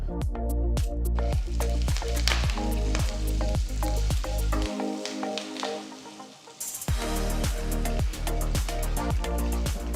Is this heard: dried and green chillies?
yes